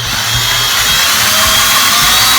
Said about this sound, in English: you can use a drill, which is quicker